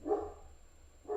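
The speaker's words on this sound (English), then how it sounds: "sorry, dogs barking, of course" Two short dog barks sound a second apart, fairly close and clear over a quiet background hum.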